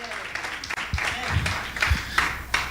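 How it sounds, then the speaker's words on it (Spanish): Scattered, uneven clapping from a church congregation during an evening service, with loose individual claps and some low voices mixed in, moderately loud and brief. "que ese aplauso sea para honrar la palabra del Señor en esta noche"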